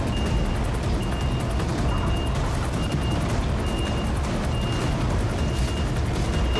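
A Renault T High truck with a trailer reverses, its steady backup beeper repeating evenly over a loud, constant engine rumble close by.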